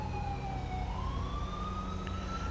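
Ambulance siren wailing in GTA V with the LSPDFR mod while responding code 3, a steady sweeping tone over a constant engine rumble.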